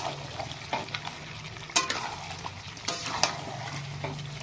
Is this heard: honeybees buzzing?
no